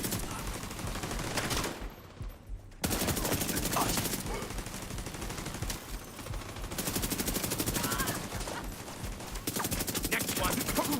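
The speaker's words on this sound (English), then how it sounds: "Enjoy my turret." Automated turret in The Division video game firing rapid sustained bursts of gunfire, loud and continuous with a brief pause partway, mixed with other in-game combat sounds.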